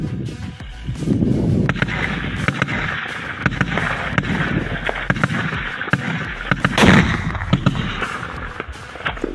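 Several sharp, loud gunshots burst out at irregular intervals during a close-range battle in Ukraine, over a constant rumbling background, with one especially strong report near the middle.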